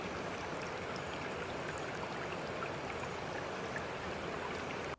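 Continuous water sound at a swimming pool, a steady dense wash of splashing and rushing water that holds even and fairly loud for about five seconds, then cuts off abruptly, with no voices.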